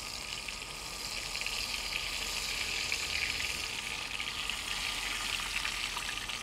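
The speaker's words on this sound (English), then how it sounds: "I'm just frying them on both sides for about 4 minutes" Pieces of sturgeon fish frying in a pan over medium heat, giving a steady, close hiss and crackle of sizzling oil that runs evenly throughout with no talking.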